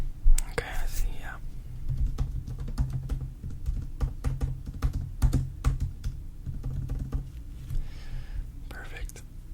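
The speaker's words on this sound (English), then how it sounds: "I think my keyboard is messing up" Fingers clatter on a computer keyboard in quick irregular bursts, close and crisp, with soft whispering running over the keystrokes in an interview setting.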